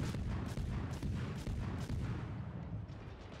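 Naval artillery salvos in the World of Warships game, a steady run of deep booming shots rolling into each other under a continuous low rumble, with no voices.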